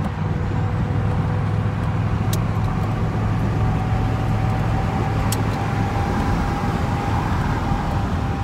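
A 1981 Pontiac Turbo Trans Am with its stock engine drives along in a steady, loud, continuous drone with road noise and a faint high whine, no voices.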